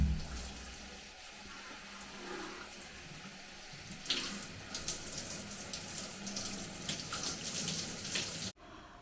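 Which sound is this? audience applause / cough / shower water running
shower water running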